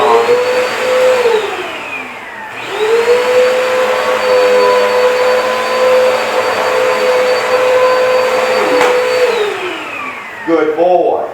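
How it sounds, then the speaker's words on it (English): A household vacuum cleaner is switched on and runs steadily at close range for several seconds, its motor whine holding level before spinning down near the end, with a dog nearby. "I'm going to move the vacuum."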